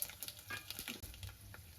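Dried red chillies, garlic and tempering spices sizzle in hot oil in a pan, a soft crackling fry with small bursts and a faint stir, quiet and close with no voices.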